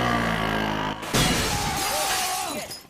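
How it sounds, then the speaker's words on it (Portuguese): A prop shop window made of fake breakaway glass is smashed in a Jackass 3D stunt, giving one loud, sharp shatter about a second in, followed by a bright spray of tinkling shards that fades out. Music plays underneath throughout. "ele finge que vai comprar uma moto e estoura o vidro da loja, que claramente é de mentira"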